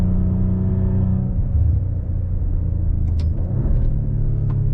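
Maserati Levante engine rumbling from inside the cabin while driving on a new road, a steady low drone with pitch steps as gears shift down, a few faint clicks near the end.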